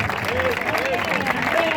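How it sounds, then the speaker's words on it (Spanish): Brief burst of crowd applause at a jota folk performance, dense clapping blended with voices and shouts, loud and continuous for under two seconds. "Un fuerte aplauso para todos"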